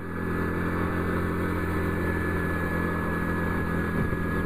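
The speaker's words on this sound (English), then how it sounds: "this bike has a nice throaty sound" A motorcycle engine with a throaty tone rumbles steadily and fairly loudly on an in-town ride through Atlanta, holding an even drone for the whole stretch with no talking.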